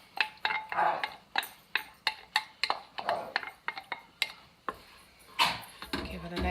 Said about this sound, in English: Give it a nice stir, and this egg will make it nice and creamy, thick, and rich.